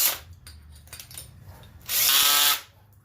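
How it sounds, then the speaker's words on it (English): A cordless drill bores a 7/16 hole in a chainsaw rack mount for an ATV, with one loud, sustained burst of whirring near the end after quieter handling noises. "So just simply drill that out."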